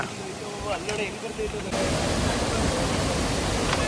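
Dudhsagar waterfall roars as a train crosses the bridge beside it, a dense broadband rush that swells louder partway through and stays steady, with a voice speaking over the start.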